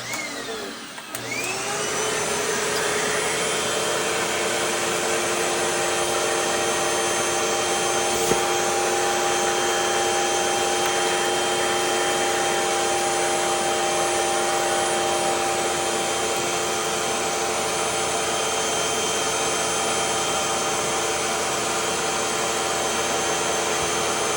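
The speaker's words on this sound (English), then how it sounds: "Paintbrush, vacuum nozzle, and let's just start going at it." A loud, steady vacuum cleaner drones continuously up close, cleaning a 1976 Pioneer SX-1050 stereo receiver; its whine holds level throughout with faint paintbrush brushing and scraping under it.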